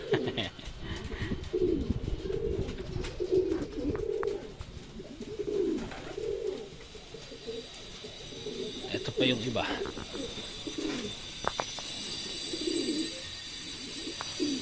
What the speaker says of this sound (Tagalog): nakaready na yung mga ibon natin